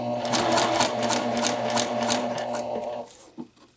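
A sewing machine stitching bias tape around a neckline runs at a steady, close, loud whirring hum for about three seconds, then slows and stops with a few soft mechanical clicks.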